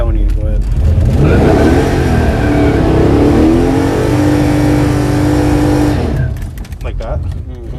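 A '70 Chevy Monte Carlo drag car launches down the strip from inside the cabin, its engine bellowing loud and close as revs climb through a long pull before backing off, with people talking near the end.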